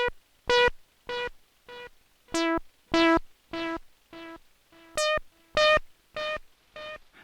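A Stylophone Gen X-1 plays short buzzy beeping notes with a longer delay setting, each note followed by spaced repeating echoes in a steady rhythmic pattern, close and clear.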